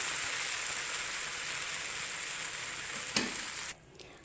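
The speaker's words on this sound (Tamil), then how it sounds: "இப்போ நம்ம ஒரு தோசை ஊற்றிக்கலாம் அழகாக ஊற்றிடணும்" Dosa batter poured onto a hot pan sizzles as a steady, dense hiss, and near the end a brief clatter comes just before the sizzle drops away to near quiet.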